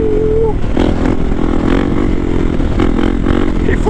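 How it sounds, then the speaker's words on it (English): A motorcycle engine roars loud and close as the rider revs hard to pop a wheelie, a continuous heavy drone with rising throttle pulls and some clatter. "Act like I don't know how to wheelie and then pop it up."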